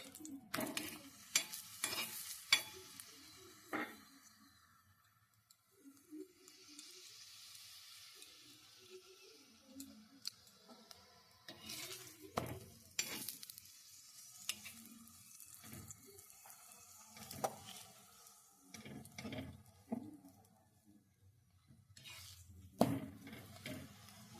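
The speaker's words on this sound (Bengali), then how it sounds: "সাদা তেল দিয়ে পরোটাটা আমি ভাজছি" A cabbage paratha fries in white oil on a tawa with a soft, steady sizzle that runs throughout. Scraping and pressing sounds occur now and then, and a few louder clatters are heard in a home kitchen.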